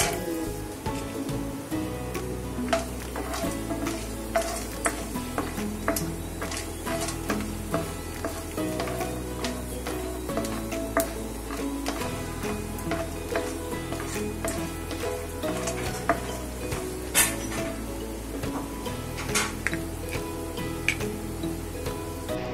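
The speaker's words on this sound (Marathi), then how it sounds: "तेल तापलेलं आहे, तर सगळ्यात पहिले आपण जे शेंगदाणे आहेत ते भाजून घेऊयात।" Peanuts roasting in hot oil in a pan, a continuous sizzle with frequent clicks and scrapes of stirring, close and steady for the whole stretch.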